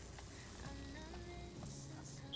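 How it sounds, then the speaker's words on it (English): Green beans sauté in garlic butter in a pan, giving a faint, steady sizzle close by with light stirring and no voices. "I'm gonna saute the beans and the rest of the season together."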